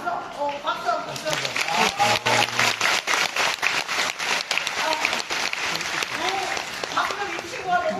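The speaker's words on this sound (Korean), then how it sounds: "박수 한번 쳐" A studio audience at a Korean KBS talk-show recording breaks into loud, sustained applause with rhythmic clapping, while voices talk and laugh over it.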